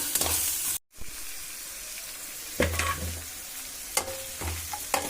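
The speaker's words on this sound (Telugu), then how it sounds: "బాగా కలుపుకోవాలి." Mutton keema masala stirred in a pan, with a steady low sizzle and several distinct scraping strokes of the spoon spaced out, close and fairly loud, after a brief silent gap.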